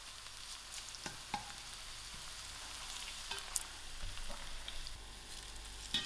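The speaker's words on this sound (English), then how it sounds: "Thereafter, to my onions, I'm adding in my 1 tablespoon of ginger garlic." Ginger garlic paste goes into onions frying in oil with a cinnamon stick, making a soft continuous sizzle with a few faint taps and stirring scrapes, quiet and close, no voices.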